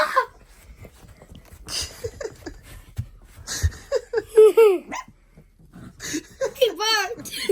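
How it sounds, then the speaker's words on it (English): A small puppy gives several tiny, high barks at close range, scattered among a woman's chatter about chewing sneakers. "his bark is so tiny"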